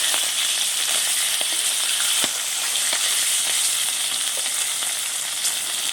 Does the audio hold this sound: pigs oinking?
no